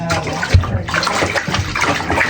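Hot water runs into a home bathtub with a loud, steady, close rushing splash that continues without a break.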